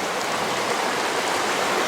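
A small mountain stream flows steadily near Champney Waterfalls, a continuous broadband rush of water with no pauses, close and even throughout.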